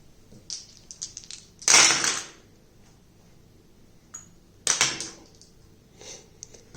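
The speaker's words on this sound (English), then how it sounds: "roll an additional exit dice for the barriers" Dice clatter into a wooden dice tray lined with a mat during a solo game of D-Day Dice Pocket. Two separate sharp rattling rolls are heard close by, each settling quickly, with quiet gaps between them.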